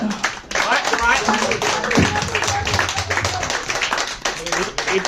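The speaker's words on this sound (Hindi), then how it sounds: "तालियां हो जाए।" Audience applauding at a Bansari Group programme, a dense stretch of many hands clapping that starts abruptly and carries on steadily at moderate loudness, mixed with some voices.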